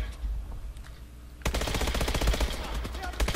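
Submachine gun fire in the video game Call of Duty: Advanced Warfare: after a quiet start, a loud rapid burst of automatic shots rattles on steadily to the end.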